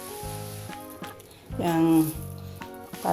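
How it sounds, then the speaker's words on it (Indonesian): Fried shallots are dropped onto a snapper curry, giving a soft crackle and sizzle that swells midway. Someone speaks over it, with clinking pot sounds around. "Masukin goreng bawangnya ya di atas tuh."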